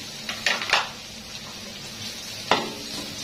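Garlic and onion sauté in a pan for chicken kaldereta, soft sizzling under a few sharp spatula scrapes and stirs against the pan, quiet and without talk.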